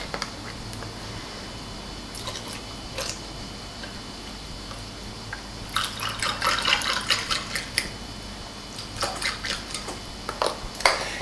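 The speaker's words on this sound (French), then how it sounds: "Complétez avec le jus de fruits tropical." Tropical fruit juice poured into a cocktail glass over ice cubes: soft splashing and clinking bursts, louder midway and again near the end, close by, over a quiet room.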